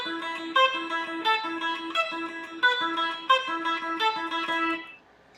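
Beginner guitar etude picked with alternating down and up strokes, a steady run of clear single notes with repeating low open-string pulses, close and dry, ending in a brief fade.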